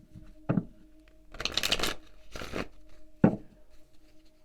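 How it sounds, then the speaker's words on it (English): Several quick bursts of tarot cards being shuffled and riffled nearby, separated by short pauses, crisp and papery. "I'm going to open up this deck, do a little shuffle."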